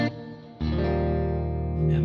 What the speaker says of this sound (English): This is a glitz, which is a modulated reverb.